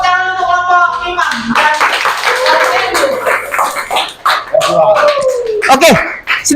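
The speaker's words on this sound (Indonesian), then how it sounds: "Oke, beri tepuk tangan untuk kelompok Iman." A classroom claps for a student group, with loud, uneven clapping mixed with excited voices, yips and a whine. A teacher's voice is heard over it.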